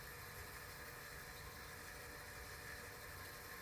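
Homemade bike elevator running with its drive chain, a steady continuous mechanical hum and rattle at even level throughout, no talking.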